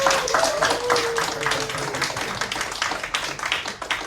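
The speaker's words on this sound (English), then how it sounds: "Hey, clap lah!" An audience applauds a speaker in a hall, a dense burst of many hands clapping together, loud at the start and thinning slightly as it carries on alone.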